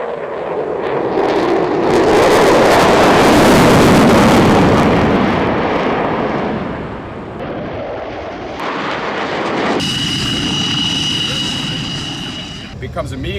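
A fourth-generation fighter jet performs at an air show, its loud roaring pass building to a peak and then receding, with wind buffeting the microphone and a voice talking over it.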